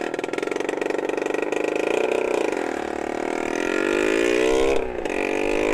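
A motorcycle engine revs hard at top speed, whining steadily with rising pitch as the rider shifts from fifth into sixth gear, a brief dip marking the shift before the drone continues loud and close.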